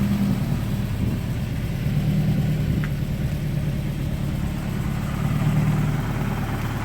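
An Acura Integra engine idles steadily nearby, a low, even rumble that runs throughout with no talking.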